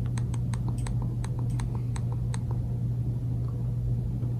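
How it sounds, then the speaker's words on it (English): Sharp plastic clicks from the center button of a Fire TV Stick 4K remote, roughly seven to nine presses in quick uneven succession over the first two and a half seconds, then quiet room tone with a steady low hum. "You want to click on that 7 times with that center button."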